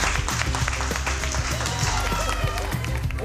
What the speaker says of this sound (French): un tonnerre d'applaudissements pour les petits chefs